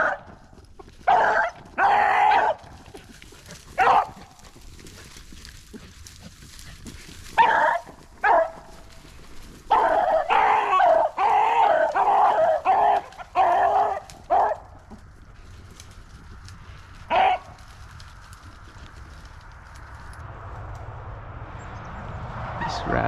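Hunting dogs bark during a Pennsylvania rabbit hunt, in repeated loud bursts and clustered runs of barking that come from close by, with quieter gaps between them and fainter outdoor sound near the end.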